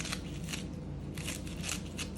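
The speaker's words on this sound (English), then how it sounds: "Then I've got some green onions that I'm just going to chop with a pair of scissors just on top." Kitchen shears snipping green onions over a beef taco skillet, a series of quick crisp cuts in an irregular rhythm, close and fairly quiet, with no voices.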